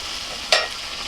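Hot oil sizzles softly in a pan while hilsa fish is fried, with one brief sharper crackle and a spoon scrape in the middle of a quiet, steady hiss.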